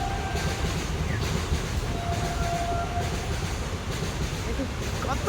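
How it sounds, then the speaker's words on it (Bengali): A train passes nearby with a continuous rolling rumble and a faint clatter of wheels. Faint voices sound in the background. "ওই যে ট্রেন যাচ্ছে।"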